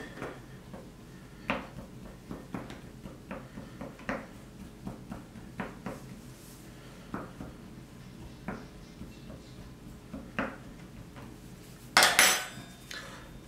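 Pastry dough for a shortcrust fruit clafoutis is pricked in a tart ring on a kitchen counter, giving a string of light, separate taps and clicks at an irregular pace, closing with a louder clatter.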